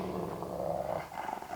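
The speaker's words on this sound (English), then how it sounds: "Daisy stopped and started growling." A dog on a walk in the Wyoming badlands growls low and steadily at close range, a continuous rumbling warning with no talking.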